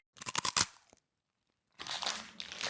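Wasabi-coated peanuts crunch close to the mouth in a quick burst of sharp bites, followed by a short silence and then softer, continued chewing.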